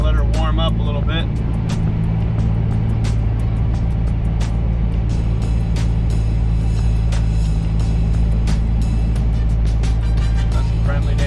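A Chevrolet Corvette Z06 idles while warming up, a loud, steady low rumble with a constant throb that holds evenly from start to finish, close to the car.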